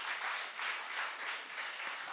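A church congregation claps together in a brief, steady burst of faint applause with no talking.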